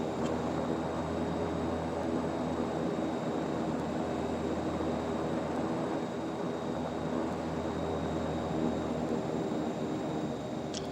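An Embraer A-29 aircraft flying in the Prepar3D flight simulator, a steady engine and propeller drone with a faint whine, constant and unbroken throughout, no talk.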